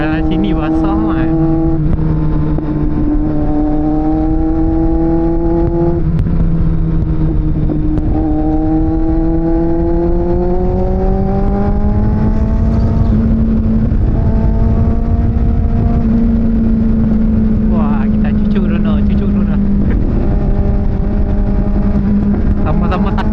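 Kawasaki Z750 and Z800 motorcycles ridden through wet corners, engines droning steadily and rising and falling with throttle under heavy wind rush, while riders talk throughout.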